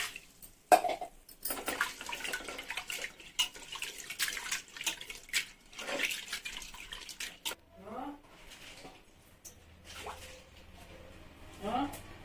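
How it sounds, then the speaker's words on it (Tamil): Lentils are washed under running water for sambar, with quiet intermittent trickling and splashing bursts beneath talking. "பருப்பு 2 தடவை கழுவிட்டோம்."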